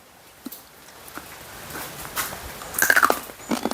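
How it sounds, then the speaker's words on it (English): Roasted coffee beans from Paraná, Brazil, crunch softly between the teeth, a few faint close bites and chews getting louder toward the end, with no talking. "we can probably just eat it, just a roasted bean."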